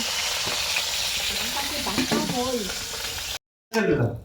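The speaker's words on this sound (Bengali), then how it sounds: "এবারে আলুটা দেওয়া হচ্ছে কড়াইতে আলুটাও এরকম ফুলকপির মতো লাল লাল করে ভেজে নেব" Potatoes fry in white oil in a wok with a continuous close sizzle. A voice talks over it briefly, and the sound cuts out for a moment before the frying resumes.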